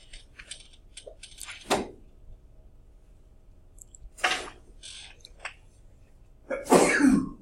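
A sneeze in a lecture room, heard once or twice as short sharp bursts amid quiet room noise, with the loudest one near the end.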